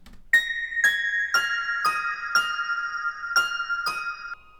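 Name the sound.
bell synth playing a simple counter melody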